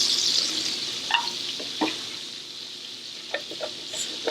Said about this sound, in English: what we want to do is scrape up all of this stuff from the bottom